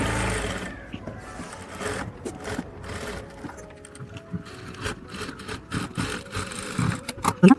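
A sewing machine stitches the back neckline of a blouse in short bursts, stopping and starting in uneven runs of whirring with brief pauses and a few clicks between.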